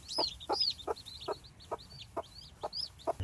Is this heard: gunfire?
no